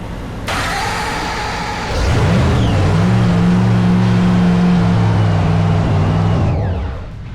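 Supercharged drag race car engine with a blower firing back up after repairs, a sharp startup burst settling into a loud, steady, close idle that drops away near the end.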